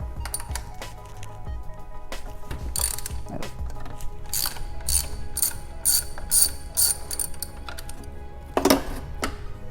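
A ratchet clicks in quick bursts while a bolt is backed off an oil temperature thermostat on a vehicle, the pawl chatter close and fairly loud with short pauses between runs and a final burst near the end.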